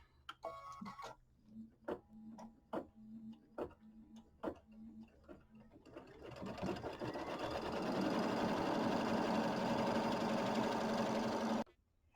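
Sewing machine quilting the border of a Kimberbell nativity bench pillow: a series of slow separate stitch clicks at first, then the motor runs up into a loud continuous whir that stops abruptly near the end.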